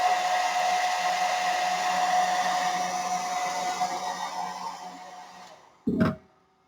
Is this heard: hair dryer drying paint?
yes